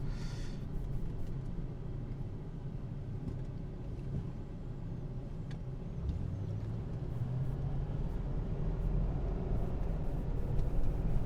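A 2003 Lincoln Town Car Signature engine runs with a low, steady rumble, heard from inside at moderate volume, with a faint rise in pitch partway through.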